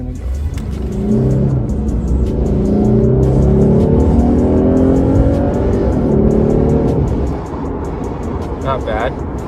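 A Lexus with a newly installed aftermarket intake accelerating hard in sport mode, engine note climbing through rising revs and easing off near the end, loud and close, with speech at points.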